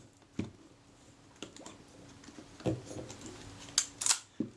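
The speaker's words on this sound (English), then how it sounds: "Oh, that shutter release button's a bit stuck down." Shutter release on a Kodak Retina IIc camera with a sticky button that stays down, giving a few soft, quiet mechanical clicks and light tapping handling noises at close range, no talking.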